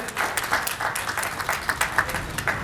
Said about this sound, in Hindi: इनका जोरदार तालियों से स्वागत